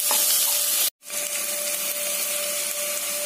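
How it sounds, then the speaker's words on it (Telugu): Vegetables for egg fried rice frying in a covered pan with ginger-garlic paste, a steady soft sizzle with a brief cut near the start, no talking. "మూత పెట్టి 1-3 నిమిషాల పాటు ఈ వెజిటబుల్స్ ని ఫ్రై చేసుకోవాలి."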